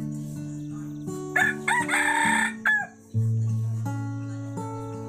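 A rooster crows loudly nearby, a long rising and falling call, with steady background tones and little else around it.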